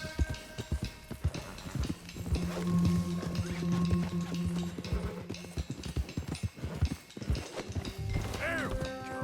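Rapid hoofbeats clatter in an uneven rhythm with thuds and knocks as a loose horse gallops in Red Dead Redemption 2, and it whinnies near the end, fairly loud and busy.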